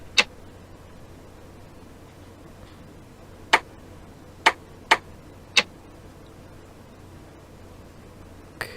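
A clock in the video game Dark Fall makes sparse, sharp ticks, a handful of crisp clicks spaced irregularly with long gaps between, heard alone over a quiet low hum.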